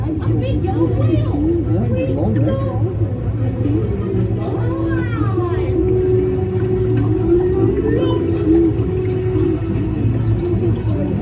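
A low, wavering whale call sounds on Disneyland's Finding Nemo Submarine Voyage ride, with long sliding tones rising over a steady mechanical rumble and the murmur of riders.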